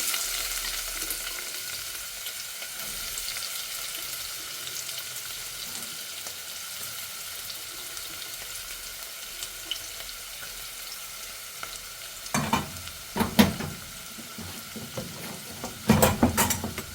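Sliced onions fry in hot oil in a pan for mutton liver gravy, a soft steady sizzle running throughout, broken near the end by a few close scraping and clanking stirs.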